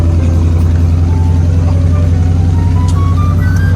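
A car engine idling with a steady low rumble, close and loud, under people talking nearby.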